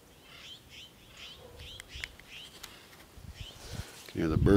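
Soft bird chirps repeat outdoors in a quiet setting, faint and intermittent, with a low rumble toward the end.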